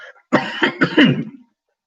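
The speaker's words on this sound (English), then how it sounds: "I'm going to cough again." A person coughs in a close, loud burst of three or four rough hacks in quick succession, with a brief throaty sound just before.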